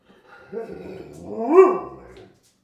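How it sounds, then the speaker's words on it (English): An excited dog in a home kitchen where bread is being made gives a rising whiny bark that swells to a peak and fades, close by, with a voice briefly audible. "Here comes the dog."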